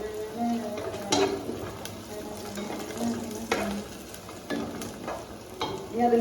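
Onions sautéing with salt in a pan: a soft steady sizzle broken by periodic scraping stirs, close by, with faint music underneath.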